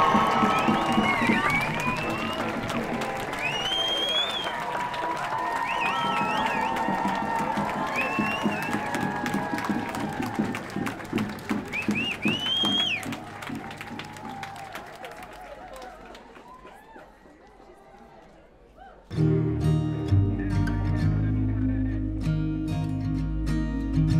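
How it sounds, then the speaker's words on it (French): Crowd cheering and clapping for a young Breton surfer, lively whoops and shouts at first that gradually die away, followed by a sudden shift to different noise near the end. "Tonnerre d'applaudissements s'il vous plaît pour monsieur Martin Schwartz."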